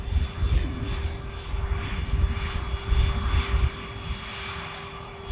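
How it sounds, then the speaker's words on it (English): A Cessna light aircraft arriving at Manchester Airport makes a steady engine drone with a constant tonal hum, heard from some distance as it moves past with no voices. "here's the Cessna that's just arrived in from the Balearic island of Mallorca"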